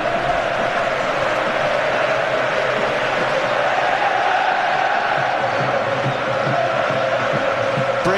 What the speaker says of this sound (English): Steve McClaren appealed for big backing from the Wembley crowd. He's getting it in the early stages.